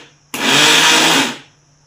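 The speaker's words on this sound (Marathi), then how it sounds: "तर इथे मी मिक्सरला फिरून घेते।" A kitchen mixer grinder whirs loudly in one short burst of about a second, blending khoya jalebi batter, starting abruptly and winding down, with no talk.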